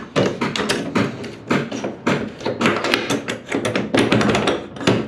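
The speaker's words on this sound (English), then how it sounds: "you're going to listen for a click. That's how you know it's locked in place." Repeated taps, thumps and clicks of a Pit Bull trailer restraint being pushed down and locking into place, close and fairly loud, arriving in an uneven series across the clip with no talking.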